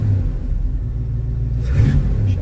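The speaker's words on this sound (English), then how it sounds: "Engine really is crisp, really is responsive." A 1975 Pontiac Firebird engine idles with a deep, close rumble, then briefly revs up with a rising roar near the end before settling back.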